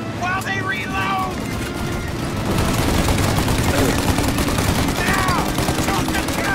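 Rapid gunfire from Mafia Definitive Edition, dense continuous bursts of shots and booms filling the scene, with shouted voices breaking through in places.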